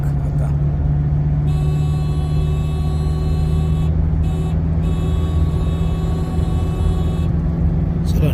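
Steady, loud road drone from inside a car at highway speed on a long road trip toward Pune while overtaking a state transport bus, with constant engine hum and tire rumble.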